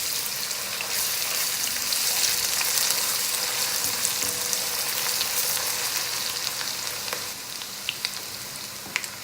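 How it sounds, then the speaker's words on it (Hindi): Onion, garlic and ginger frying together, a dense steady sizzle with scattered small crackles and pops, close and continuous with no voices. "फिर हम इन तीनों चीज़ों को फ्राई करते हैं।"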